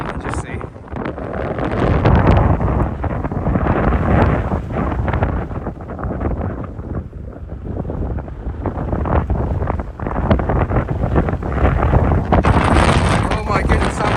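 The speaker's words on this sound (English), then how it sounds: "Oh my goodness, that wind is blowing me." Strong gusts on an exposed cliff path batter the microphone with a loud, continuous roaring rumble that swells and dips for the whole stretch, with no break in the buffeting.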